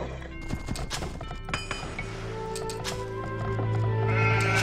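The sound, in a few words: horses' hooves in Age of Empires 2 video game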